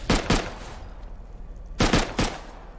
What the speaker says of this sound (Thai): ผมยิงไปสามนัด